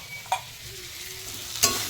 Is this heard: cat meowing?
no